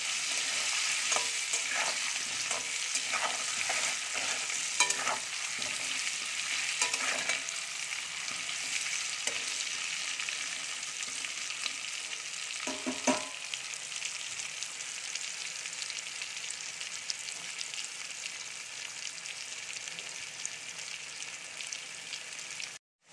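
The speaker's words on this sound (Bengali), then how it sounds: "আলুটা ভালো করে ভেজে নেব" Steady, close sizzling of potatoes with turmeric and salt frying in hot oil, with occasional scraping and clinks of stirring, continuing throughout with no talking.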